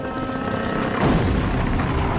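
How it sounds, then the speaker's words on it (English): A deep explosive boom erupts about a second in, loud and rumbling, followed by a sustained low roar that carries on to the end. "There's an explosion."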